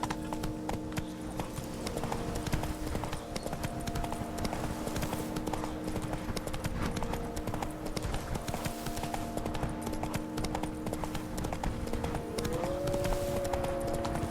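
Rhythmic hoofbeats of a horse galloping in The Witcher 3, a steady clip-clop running throughout under game music and ambience, fairly faint.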